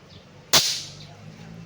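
Vintage Italian toy galleon ship cannon from the 1960s-70s fired indoors: a single sharp, loud cap-like crack with a brief hissy tail, then quiet room tone.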